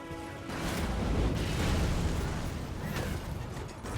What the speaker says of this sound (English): It's a ballista with exploding bolts, if I saw that right.